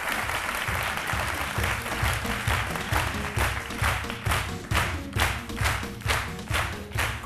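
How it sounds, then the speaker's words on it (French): A studio audience on a television talk show claps to welcome a personal-development coach, a fairly quiet, uneven patter of hands with individual claps standing out over music beneath. "C'est un coach en développement personnel, le coach Yoman, que je vous demande d'applaudir."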